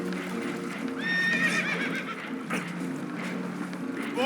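Spooked horses whinnying and shrill neighs with faint hoof clatter aboard a damaged boat taking on water in Red Dead Redemption 2, set against a steady rumbling ambience of water and engine noise.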